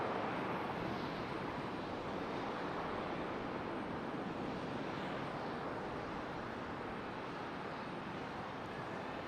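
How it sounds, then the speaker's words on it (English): A Delta CRJ regional jet departing Charlotte Douglas airport gives off a continuous, dense roar that stays steady and fairly distant for the whole stretch, with no voices. "There goes our Delta CRJ."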